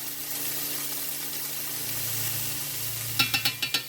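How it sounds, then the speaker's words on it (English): Vegetables fry in a pan for fried rice made from leftover rice, giving a steady, close sizzle. A quick run of stirring clicks and scrapes follows near the end. "Let that cook a little bit. 2 minutes for the vegetables to get nice and tender."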